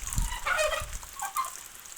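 Turkeys gobble and chickens cluck in short bursts over a soft wet patter of rain, fairly close, with no talking.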